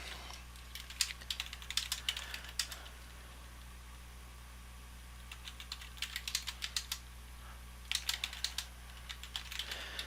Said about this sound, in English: then in our body, email body, we can start typing in